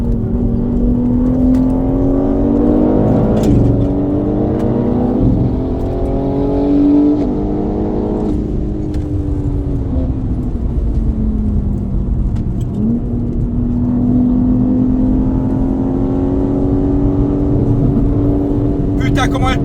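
Race car accelerating hard on the Spa circuit, a loud, sustained engine drone with rising and falling pitch as it climbs through the revs and shifts gears, with a voice talking over it.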